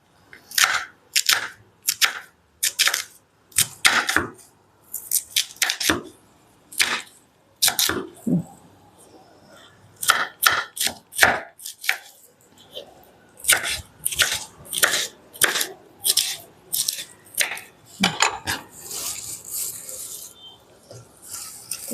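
A knife chops through a banana flower in a string of crisp, close cuts, some spaced singly and others coming in quick rhythmic bursts, with short pauses between.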